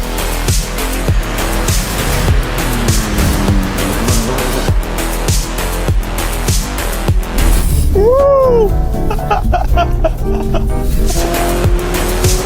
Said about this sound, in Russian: Чуть-чуть дрифтанули, а там следы видно.